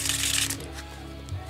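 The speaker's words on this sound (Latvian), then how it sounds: "Tātad jūs uztaisat riffle shuffle" A brief, soft riffle shuffle of a deck of playing cards, a quick flutter of snapping cards up close followed by a faint settling rustle.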